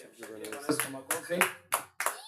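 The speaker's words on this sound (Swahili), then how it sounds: "Shangilie tena Bwana Yesu kwa makofi." A church congregation claps for Jesus during Swahili gospel worship, a few sharp bursts of hand claps mixed in with voices speaking and singing over them.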